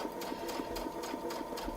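Domestic sewing machine stitching quilting lines on a quilt, a steady fast mechanical whir with a constant hum and evenly spaced needle clicks, running continuously and close.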